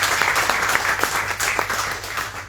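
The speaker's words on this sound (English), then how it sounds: "can we just give Fuller Sports a round of applause for their help?" Listeners at a community mayoral candidates forum applaud Fuller Sports, a sustained burst of crowd clapping with scattered sharper claps, fairly loud and continuous, over a faint low hum.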